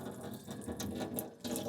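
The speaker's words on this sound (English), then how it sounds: "And wash your hands again." Tap water runs steadily into a sink while hands are washed during raw gator meat prep in an RV kitchen, a close, continuous splashing flow with no talk.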